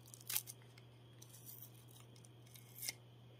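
A piece is torn out of a cover for a homemade sun filter on a Nikon P1000 lens: two short, crisp tearing bursts near the start and end, with faint rustling between, close up over a steady low hum.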